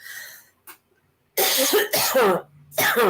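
A short throat-clearing sound followed by several harsh, close coughs in quick succession, separated by brief pauses.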